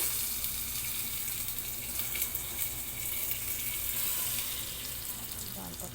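Ginger garlic paste fries in melted butter for butter pulao, a steady bright hiss and sizzle that stays even and close throughout, with no talk.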